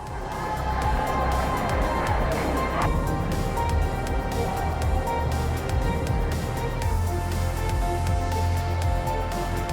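Dense crowds line the Thames near Blackfriars and Waterloo, cheering marathon runners through the final 5k. The roar is steady and continuous, with no break across the stretch.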